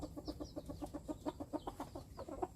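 Bantam chickens on a farm in Chanthaburi cluck in a quick, rhythmic string of short calls, fairly close and clear, with a few higher squawks mixed in and no talking.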